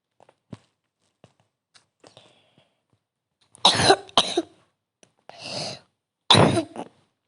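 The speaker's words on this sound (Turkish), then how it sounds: "Beni en çok öksürük tutmuş." Several harsh, close coughs burst out in a short fit, two quick coughs followed by a rasping one and another strong cough, with faint clicks and taps in the quiet before them.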